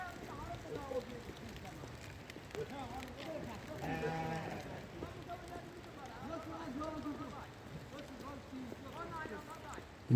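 A flock of sheep in Uttarakhand bleats repeatedly in wavering calls, some near and some farther off, with shepherds' voices and low background murmur mixed in.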